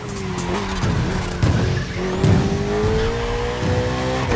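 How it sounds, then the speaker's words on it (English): A Ferrari 488 in The Crew Motorfest roars at steady high revs with a sustained engine drone, its tires squealing and skidding through repeated slides, loud and continuous. "Ferrari 488."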